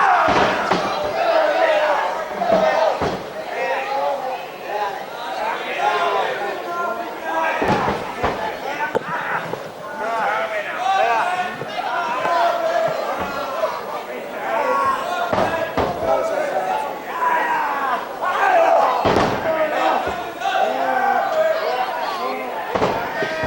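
Wrestling crowd at the Cliffs Pavilion in Westcliff, a dense, continuous roar of shouts and cheers with sharp slams and bursts throughout, heard under a commentator's voice.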